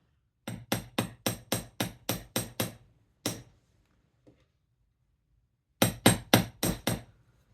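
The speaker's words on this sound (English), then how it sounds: "I take a flathead hammer and hammer both sides down." Sharp metallic strikes from a flathead hammer flattening a hat pin ring out close by in quick steady runs of about eight blows, a single hit between, then another burst after a pause.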